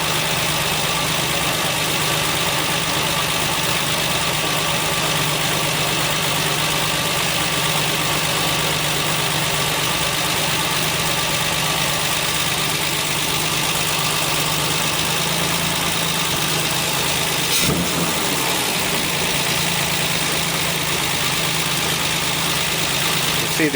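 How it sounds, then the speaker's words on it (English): A 1968 MGC engine fitted with SU HS6 carburetors runs at a steady, loud idle with a constant low rumble and mechanical hum, holding continuously with a brief disturbance partway through. "the idle is increased as I'm doing that"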